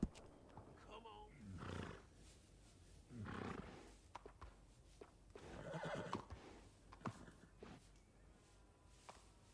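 A horse in the video game Red Dead Redemption 2 neighs several times at close range, with loud whinnying bursts and snorts over a quiet background, while someone speaks in between.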